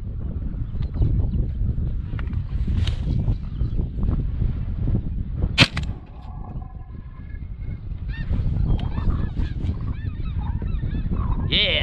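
Snow geese honk repeatedly in flight during an outdoor goose hunt, a dense chorus of overlapping calls carrying on steadily over wind, with one sharp louder burst midway.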